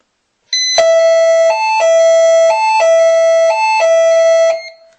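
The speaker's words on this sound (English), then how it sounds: "that will set the alarm off inside and out." A loud Pyronix security alarm panic siren blares close by, alternating between two piercing tones in a steady repeating pattern for several seconds before cutting off.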